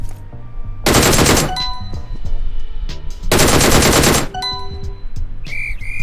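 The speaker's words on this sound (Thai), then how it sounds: "พยายามปล่อยไปหนึ่งชุดนะครับให้โดนศัตรู ให้เยอะที่สุดอย่างน้อย4นัด ถึง5นัด" Bursts from an M16 automatic rifle in PUBG Mobile, two loud sustained volleys of rapid fire separated by quieter pauses with faint clicks and a short metallic ring at the end.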